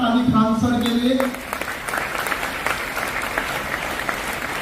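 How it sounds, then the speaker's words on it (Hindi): Loud applause from an audience at a motivational talk starts under a speaker's amplified voice and then carries on alone as a steady, fairly dense clatter of clapping. "मैं चाहूंगा जोरदार ताली फ्रांसर के लिए"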